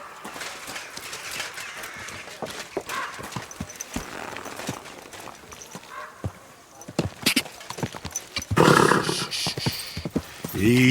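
Rhythmic hoofbeats clop along steadily, then a horse whinnies loudly near the end, with sparse background sounds around them, in the video game Kingdom Come: Deliverance 2.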